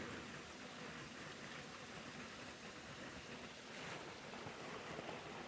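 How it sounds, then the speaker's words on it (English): Water pours steadily out of the ground at a spring beside a boulder on a rural loop road, a constant, broad rushing close by with no voices, only slight swells in level. "there's plenty of water coming out of the ground"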